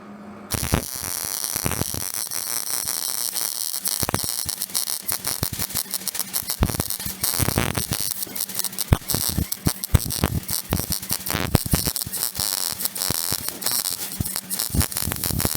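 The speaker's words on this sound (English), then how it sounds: "Now I can weld." Welding on a Jaguar MKII car body, a steady crackling, buzzing arc with frequent sharp pops and spits, close and continuous with no talking.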